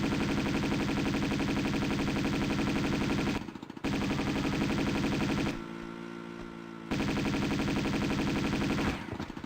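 Gunfire in Tomb Raider Remastered rattles as sustained rapid automatic fire, broken by two short gaps before the steady stream resumes.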